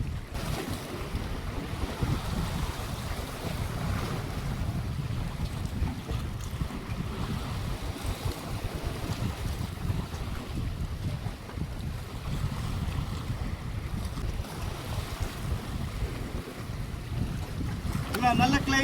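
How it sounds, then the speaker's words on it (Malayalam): Wind buffets the microphone aboard a fishing boat out at sea while jigging for giant trevally, a constant low roar with waves and hull noise underneath, no clear speech. "നല്ല കാറ്റ് തുടങ്ങി."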